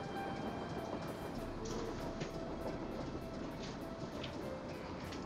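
Nancy Drew video game train running non-stop on its rails toward Copper Gorge, a steady, fairly faint rumble with soft periodic clicks from the rails.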